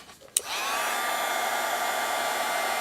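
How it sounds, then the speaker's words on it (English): Heat tool blowing hot air to melt gold embossing powder on a Christmas reindeer card, a steady loud whooshing hiss that starts after a brief click and runs continuously to the end. "And now I'm going to get my heat tool and emboss that image."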